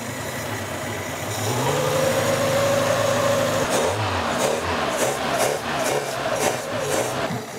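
Peugeot 205 Turbo engine rising in pitch as it is revved, then settling into repeated throttle blips, loud and close with no talk.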